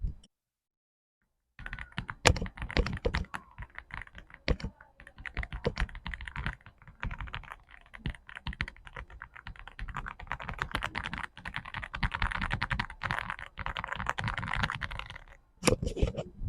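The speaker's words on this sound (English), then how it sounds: "Go ahead and do a little bit of typing and see if you would get a clear picture of how it sounds." Fast, continuous clacking comes from typing on an AULA F75 mechanical keyboard fitted with ROG red switches, close and crisp, with a brief pause near the end before a final flurry of keystrokes.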